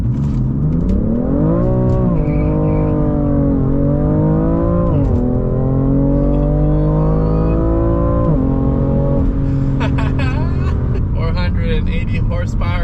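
A 480-horsepower BMW M2 revs and accelerates hard in M mode, engine pitch climbing and dropping through gear changes, loud and continuous from inside the car, with a voice briefly exclaiming near the end.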